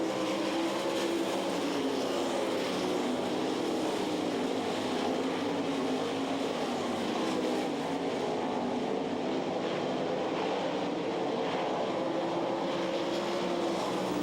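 Sprint cars in a heat race at the Knoxville Nationals, a steady, loud engine roar from several cars lapping the half-mile dirt track, blended into one continuous drone for the whole stretch with no distinct voices.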